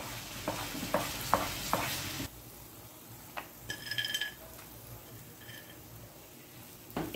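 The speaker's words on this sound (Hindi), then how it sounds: "हम इस वक्त तक इसको फ्राई करेंगे जब तक इसका ऑयल जो है ना वो अलग ना हो जाए" A spoon stirs chocolate semolina halwa frying in oil in a pan, scraping in a few distinct strokes at first, then a softer, quieter sizzle with occasional light scrapes and a faint clink.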